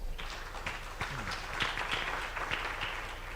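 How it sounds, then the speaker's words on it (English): Light, scattered clapping from a symposium audience, faint and sparse with individual claps standing out against a quiet room. "A round of applause"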